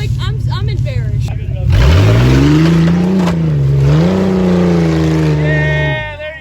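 A 6-inch lifted Honda CR-V engine revs loudly as it is put in drive, the drone climbing and wavering for several seconds before easing off, with voices heard before and after.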